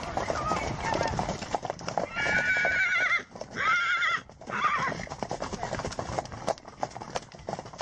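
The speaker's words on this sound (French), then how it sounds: "écouter et regarder les beaux chevaux camarguais" Camargue horses neighing in several loud whinnies mid-clip, with hooves clip-clopping and outdoor activity around them, close and lively.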